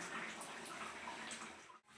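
Water is poured into a pot of mutton and potato curry as a steady, soft gushing splash that runs for a couple of seconds before stopping, heard alone without talk.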